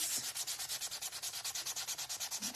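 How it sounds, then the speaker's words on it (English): Rapid, even strokes of sandpaper rubbing on a wooden craft piece, about ten per second, close and steady with no voices. "I'm gonna start sanding a lot of this stuff"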